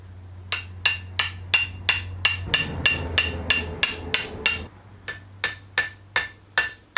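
Small metal eyes for a crab lock are straightened with a hammer: sharp, ringing metallic strikes land one after another at a steady pace, about two per second, close and loud with a low hum beneath.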